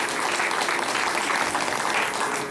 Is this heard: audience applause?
yes